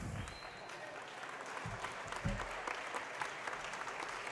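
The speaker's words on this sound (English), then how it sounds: "a nice round of applause for the ladies" Applause for swimmers at a swim meet between Rocket Swimming and Oil City, a steady spread of clapping from a crowd, faint and echoing as in an indoor pool hall.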